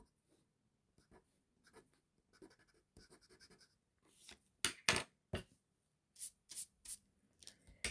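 Graphite pencil working over paper while a dog's tongue is drawn, first soft scattered strokes, then louder, sharper bursts of quick scribbling and lifting, close-up and with no voices.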